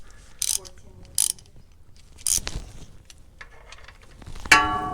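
Ratcheting wrench tightening bolts by hand on a Lexus LX570 transfer case, four short bursts of rapid clicking separated by pauses, close and fairly quiet.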